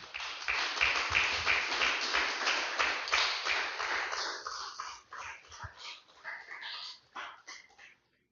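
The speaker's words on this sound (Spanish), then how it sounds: "Denle un fuerte aplauso al Señor" A church congregation claps together, a dense, loud burst of applause that thins after a few seconds into scattered, uneven claps before fading out.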